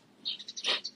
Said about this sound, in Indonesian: Ramai kali Kak, suara burung. Iya, di sini banyak burung.